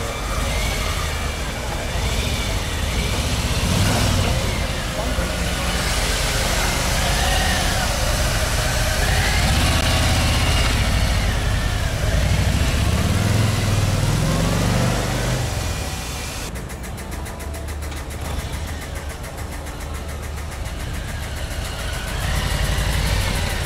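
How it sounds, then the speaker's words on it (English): A Harley-Davidson Street Bob motorcycle engine runs steadily and loudly throughout, with a deep continuous drone that rises and falls slightly with throttle, heard close up without speech. "this time I'm going to take the street bob out for a run"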